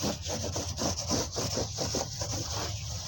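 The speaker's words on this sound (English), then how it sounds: "most people wouldn't use a piece of steel wool to do this" Steel wool scrubs hard across aluminum diamond plate on a travel trailer. A rough, rhythmic rasping repeats in quick back-and-forth strokes, loud and close, with no talking.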